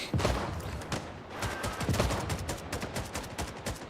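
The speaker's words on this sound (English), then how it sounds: "This gun is so loud, man." Loud, close gunfire from a gun in a Cold War multiplayer shooter game, a dense run of rapid automatic shots lasting a few seconds with a short dip partway through.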